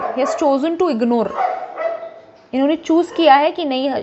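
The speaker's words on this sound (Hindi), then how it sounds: "सॉरी बहुत कुत्ते भौंक रहे हैं" Several dogs bark and yip in the background while someone talks steadily in Hindi close to the microphone.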